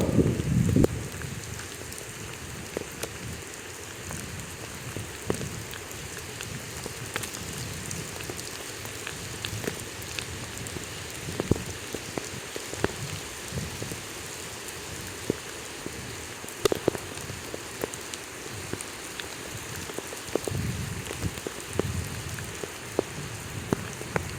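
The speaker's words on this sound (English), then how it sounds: "It's not raining that hard." Light rain patters steadily on a surface nearby in Florence, with scattered sharper drips and taps standing out against the soft continuous wash.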